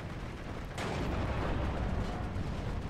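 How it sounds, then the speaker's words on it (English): A StuG III assault gun fires in Steel Division 2: one sudden, loud cannon boom that swells into a heavy, sustained rumble over a constant battlefield din. "My Stug 3 is up. Going to fire at that Zerinyi."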